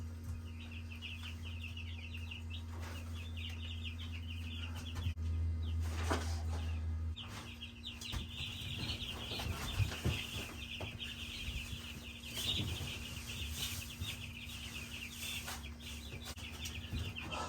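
Meat chickens, including young roosters, cluck and chirp in a steady chorus inside a brooder under a constant low mechanical hum, with occasional soft rustling and bumps close by.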